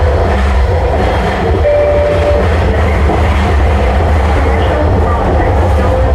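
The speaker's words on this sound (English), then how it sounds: "Arriving at commercial Broadway SkyTrain Station, folks." Vancouver SkyTrain on the Millennium Line pulling into Commercial-Broadway station, a loud continuous rumble and wheel roar heard from on board or close by, with a brief tonal whine partway through.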